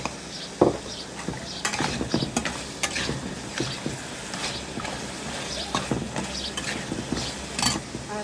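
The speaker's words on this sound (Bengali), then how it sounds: "এবার আমি এই যে ভেজে রাখা বড়িগুলো দিয়ে দিব।" Fried lentil dumplings go into a pan of sautéed spice masala, bringing a steady sizzle with repeated scraping and stirring clinks of a utensil against the pan, close and continuous.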